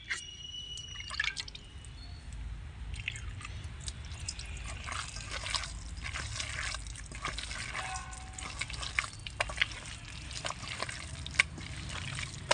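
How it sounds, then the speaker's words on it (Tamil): Hands knead pumpkin pakoda dough after a sprinkle of water, making soft wet squelches and drips up close, quiet and steady with no talking. "நான் இன்னும் கொஞ்சோண்டு தண்ணி தெளித்து பிணைஞ்சிக்கிறேன்."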